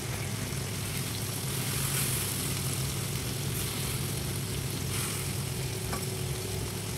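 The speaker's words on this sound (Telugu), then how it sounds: "ఇప్పుడు దీంట్లో కరివేపాకు వేసుకుంటాను" Curry leaves frying in hot oil in a pan for an ivy gourd and onion curry, giving a steady, loud, dense sizzle that runs unbroken throughout.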